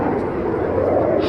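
A North American F-86 Sabre Mk.6 jet flying a display at an English airshow gives a steady, broad, rushing roar, with a commentator talking over it through a public address system.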